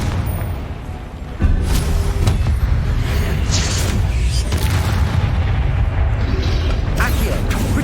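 Booming blasts from the Confringo explosive spell in the video game Hogwarts Legacy, a heavy, dense barrage of loud bursts and rumbling impacts that starts with a sudden jump in volume and keeps pounding, with game effects layered underneath.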